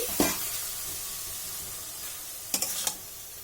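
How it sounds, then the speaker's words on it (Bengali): Radish and lentil-dumpling chechki being stirred in a pan over medium heat, a steady soft sizzle with a couple of brief scraping bursts of the spatula, close and without speech. "মিডিয়াম আঁচে রেখে বেশ ভালোভাবে নাড়াচাড়া করে নিয়েছি"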